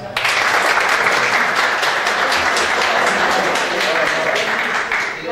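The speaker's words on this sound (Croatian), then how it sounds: "još jedan aplauz za ovu divnu muziku" Loud, sustained audience applause fills a concert hall, dense clapping from a large crowd that holds steady and then tapers slightly at the end.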